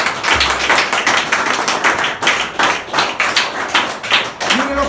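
A church congregation applauds in a dense, sustained burst of clapping that rises and falls in waves, with a Spanish-speaking voice briefly heard at the end.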